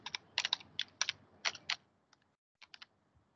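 Keys clatter on a computer keyboard in quick bursts of close, crisp clicks, a flurry of taps, a short pause, then a few more strokes in a quiet room.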